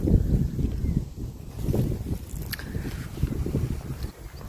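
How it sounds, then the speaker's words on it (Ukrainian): Gusty wind in Ireland buffets the microphone outdoors, a continuous low rumbling roar that swells and eases without any voices. "Вітер дує трохи так."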